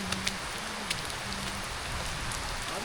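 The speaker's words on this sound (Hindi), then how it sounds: "बारिश में नहाने का अपना ही मज़ा है" Steady rain falls on a hillside in Murree, a soft, even hiss with scattered drop taps and no voices.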